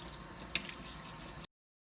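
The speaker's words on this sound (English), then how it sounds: "rinse them under running water and brush" Tap water runs steadily into a kitchen sink while fingerling potatoes are rinsed and brushed, a continuous close hiss with small splashes that stops abruptly near the end.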